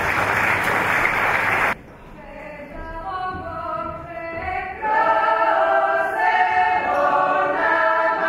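Audience applause for a dance group at a 2019 village stage show in Tribalj, Croatia: a dense burst of clapping for under two seconds, then it cuts to tonal music and voices.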